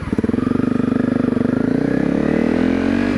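A Honda CRF250L motorcycle with a Yoshimura RS-4 aftermarket exhaust idles with a throaty, rapid exhaust pulse, then revs up briefly, close by and loud.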